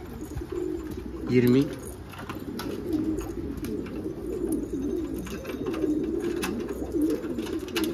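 Racing pigeons cooing near a garden loft, a steady low murmur of coos running throughout with a louder burst around the middle, mixed with someone talking over them.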